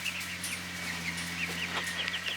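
Young meat-bird chickens in a coop give steady, busy peeping and chirping over a constant low mechanical hum, the calls scattered and overlapping throughout.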